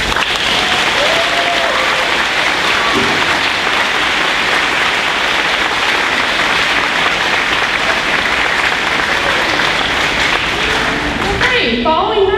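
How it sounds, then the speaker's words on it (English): An audience at an eighth-grade awards ceremony claps loudly and continuously, a full round of applause that holds steady before tapering at the end as a voice begins to speak. "So I'm going to give her a round of applause."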